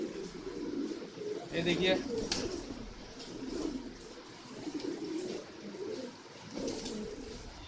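Racing homer pigeons coo in a loft in Kolkata, soft low warbling calls repeating throughout at close range, mixed with someone talking over them.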